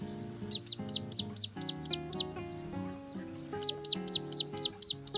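A duck calls loudly and clearly in two rapid bursts of repeated, evenly spaced honking quacks, close by and with no sign of hoarseness.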